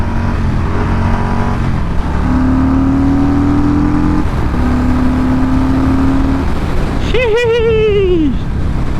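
A 2021 Harley-Davidson Street Bob engine drones loudly and steadily under riding wind, then revs sharply near the end before the pitch sags and cuts out, with a voice speaking briefly.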